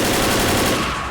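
Dense automatic gunfire from the zombie shooter Left 4 Dead, a loud continuous rattle of rapid shots filling the whole burst without a gap.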